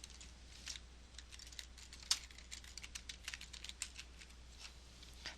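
Typing on a computer keyboard, a quick, uneven patter of soft key clicks at close range over a low steady hum, with no voices.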